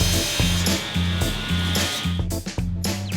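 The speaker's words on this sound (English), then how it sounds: "welcome to the wood mill. This is where every single component of the famous Morgan ash frame begins." Power saw in the Morgan Motor Company wood mill cutting ash frame components, with rhythmic pulsing bursts of cutting over continuous machinery noise, close and loud.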